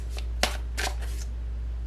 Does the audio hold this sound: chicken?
no